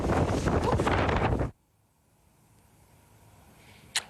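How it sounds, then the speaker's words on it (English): Storm wind roaring and buffeting a microphone outdoors, loud gusty rush that cuts off abruptly after a second and a half, followed by near silence and a brief sharp burst near the end. "But yeah, you can hear the wind right now."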